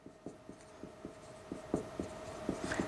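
A pen writes out a maths solution on paper, making quick rhythmic scratching strokes close by and fairly quiet, with no voices.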